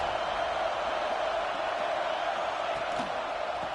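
Video game crowd noise from NCAA 26 college football rising behind the defense before a big third down, a steady, broad roar of cheering held at an even level throughout without a break.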